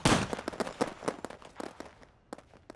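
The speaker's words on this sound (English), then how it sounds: "This is the audio post-lapping of popping graduation gunfire between cuts in The Departed." Film gunfire in a crime drama pops in a rapid, uneven series of sharp cracks, loud at first then thinning and spacing out, with a final few isolated shots.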